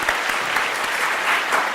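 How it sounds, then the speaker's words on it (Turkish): Studio audience applause on a Turkish TV quiz show, a dense steady wash of many hands clapping close and loud, running without pause and with no voices over it. "Çok teşekkür ederiz kıymetli alkışlarınız için"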